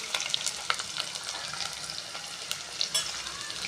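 Green chillies and sliced onion frying in a pan give a steady, crackling sizzle with a few sharp pops and light stirring, close and moderately loud throughout.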